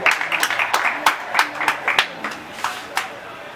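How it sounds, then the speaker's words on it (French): Guests applaud the first witness at a civil wedding ceremony, a run of sharp, scattered claps that thin out toward the end, with brief talk in the room. "On applaudit pour le premier témoin"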